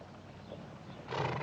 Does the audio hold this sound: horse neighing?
yes